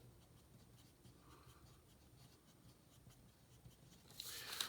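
Small pencil writing on a drafting measuring worksheet, a faint, steady scratching that continues softly throughout, with a brief louder rustle at the very end and no talking.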